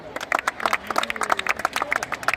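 Rhythmic clapping breaks out at a school cricket quarter-final between class eight and class nine, a quick, steady patter of hands with voices mixed in.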